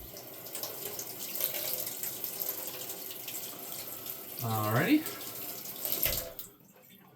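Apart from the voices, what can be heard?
tap water running while washing a potato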